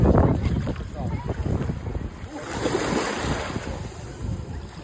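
Sea waves wash onto a beach with wind buffeting the microphone, a loud broad rushing surge that swells and eases, heard close and without talk.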